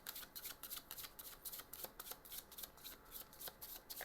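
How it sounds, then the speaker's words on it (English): A tarot deck being shuffled, with quick riffling bursts repeating in a steady rhythm, close and crisp, with no voices. "Why am I shuffling this deck?"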